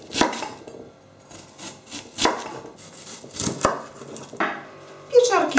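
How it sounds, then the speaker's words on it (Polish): A knife slices an onion into strips on a board, a handful of crisp, separate cuts spaced about a second apart, close up, quickening into a short flurry at the end, with no talking. "Cebulę kroję w piórka."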